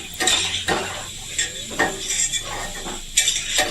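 Potato and okra curry is stirred in a pan, giving a series of scraping clatters of a spatula against the metal at uneven intervals, close and fairly loud over a soft sizzle.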